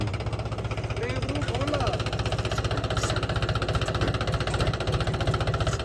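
A tractor engine runs steadily while the tractor is stuck in mud, a loud, even low throb throughout with no break.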